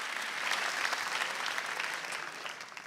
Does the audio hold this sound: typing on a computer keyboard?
no